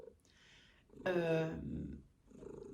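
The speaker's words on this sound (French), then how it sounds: "Vous l'entendez ronronner" A formerly outdoor cat purrs softly and steadily at close range, a quiet low rumble, with a brief louder voiced sound in the middle.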